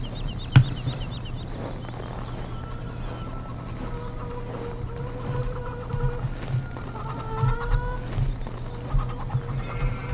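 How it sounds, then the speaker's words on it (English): Chickens in Farming Simulator 17 on a Lawfolds, Aberdeenshire farm: faint scattered clucks and short squawks come and go over a steady low engine drone, with a few sharp knocks along the way. "Oh, that was a chicken."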